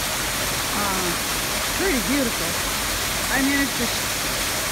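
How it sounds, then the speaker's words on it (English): Blue Auger Falls, a waterfall with ice around it, roars as a steady, loud broadband rush close by, with a person talking over the water throughout. "Well, we made it to the first waterfall. This right here is called Blue Auger Falls."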